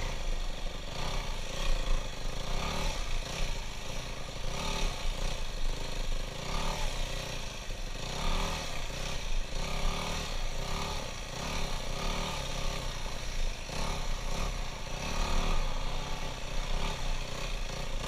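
A dirt bike motorcycle ridden through sand, its mid-pitched engine droning steadily with small surges in revs, moderately loud and continuous, with no talking.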